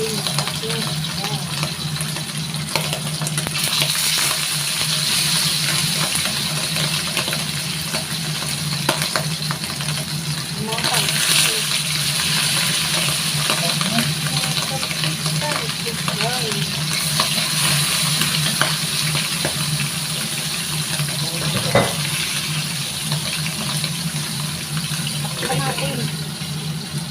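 Fish frying in hot cooking oil, a steady loud sizzle and crackle running throughout with occasional stirring clinks, while a voice talks over it.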